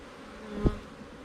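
Honey bees hum at an open hive while the brood nest is being fed, a steady soft buzz with one brief closer swell as a bee passes near.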